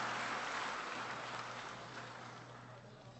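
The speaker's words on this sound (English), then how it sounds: "let's get a round of applause for this one, our very first honoree 28 years ago" Applause for an honoree at the Fulbright Awards Dinner, a broad, distant wash of clapping filling the room and slowly tapering off, with a steady low hum underneath.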